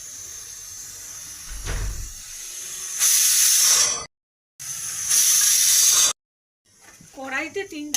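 A pressure cooker boiling chickpeas lets out two loud, sustained bursts of hissing steam, each about a second long and separated by brief silences, after a soft thud near the start.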